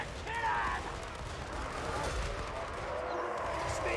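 Chaos Dwarf units in a fantasy battle game open fire with a crackling volley of overlapping shots and mechanical clatter, sustained for several seconds over a dense battlefield din.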